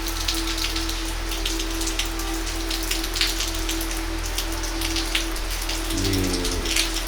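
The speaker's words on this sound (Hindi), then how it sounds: "ये ठंडी ठंडी हवा, इस बारिश के बूंदे" Steady rain falls on surfaces outdoors, a dense close patter of raindrops with a low constant hum beneath and a brief low rumble near the end.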